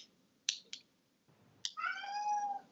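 A pet cat meows indoors, a few short clicks and mews followed by one long, clear, close meow with a rising tone, alone over quiet room noise.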